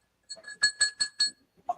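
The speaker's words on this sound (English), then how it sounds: "The bell rings" A wrestling ring bell at an independent pro wrestling show rings in five quick metallic clangs, bright and ringing, with a faint short sound trailing after.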